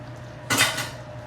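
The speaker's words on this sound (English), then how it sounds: "sorry for the noise, I threw the spoon in the sink" A sudden clattering metallic crash as a metal spoon is thrown into a sink, ringing briefly before fading into quiet room noise.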